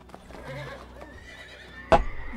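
Horses in the LEGO Lord of the Rings video game, with a faint horse call early on and a sudden loud, sharp whinny near the end over quiet game background.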